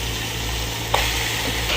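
Chicken frying and being stirred in a spicy sauce makes a dense, loud sizzle throughout, with one sharp utensil clack near the middle and stirring noise after it.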